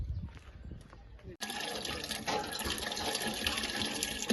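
Water pours steadily into containers at a village water source in Pankhanda, Thane, a continuous splashing fill that begins abruptly after muffled sounds and carries on to the end, with a voice in the background.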